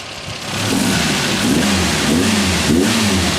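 A car engine idles, then revs up in several rising and falling bursts, loud and close, with no voices.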